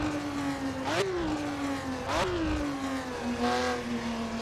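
Simulated 1960s race car in a 1967 Daytona endurance racing game, its engine droning steadily with two sharp rev spikes on gear changes and a faint tire squeal, close and continuous with no talk.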